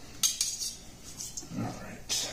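A knife cuts through a rotisserie-cooked sirloin tip roast on a board, giving a few light metallic clinks and scrapes with a soft slicing rasp in between, close and fairly quiet.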